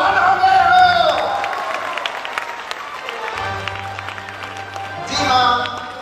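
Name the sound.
audience clapping at school annual function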